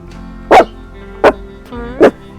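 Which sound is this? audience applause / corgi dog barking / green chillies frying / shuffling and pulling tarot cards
corgi dog barking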